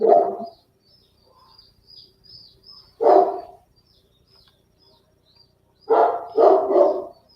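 A dog barks near an open microphone, first a single bark, then another about three seconds later, then a quick double bark, with quiet room tone and faint chirps in between.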